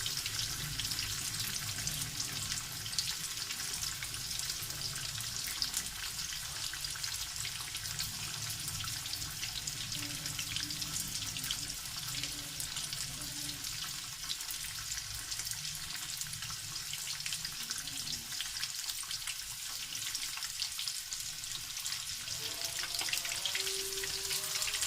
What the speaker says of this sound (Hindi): अच्छी तरह गोल्डन होने तक इसको हम फ्राई करेंगे।